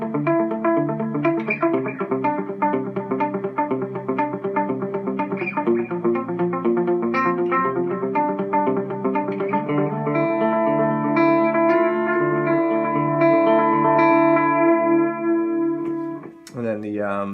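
Electric guitar played through a Carbon Copy analog delay pedal, sustained chords and notes ringing with warm repeating echoes that smear into one another, loud and continuous, ending in a brief sharp transient.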